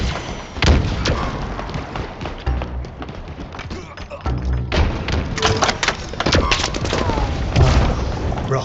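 Rocket blasts and bursts of gunfire in a hill-control objective match of a first-person shooter video game, heavy booms and thuds recurring throughout amid continuous combat noise, with players talking over it.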